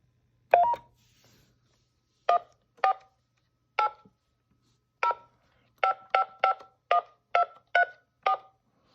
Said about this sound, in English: let's go ahead and store a random phone number and see what happens